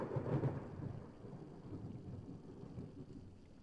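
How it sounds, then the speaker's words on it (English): Thunder in the horror game Layers of Fear: a heavy, low rumble that swells loudly at the start and then rolls on steadily, with a faint patter of rain underneath. "Fuck you, Thunder."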